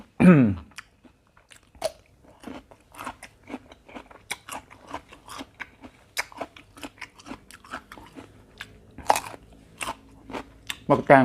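Someone chews cooked Thai fermented pork skin (naem) with fresh chili and garlic, close to the mic. Repeated crisp, crunchy bites and chewing clicks come in an irregular rhythm over near silence.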